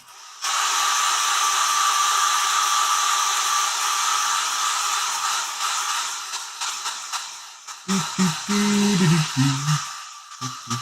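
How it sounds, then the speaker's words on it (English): Hair dryer blowing on freshly painted red metal on an old school Ork Tinboy miniature, a loud steady close whoosh for several seconds that fades out, followed by scattered clatter and knocks. "Hit this with the hair dryer and let's see what we get."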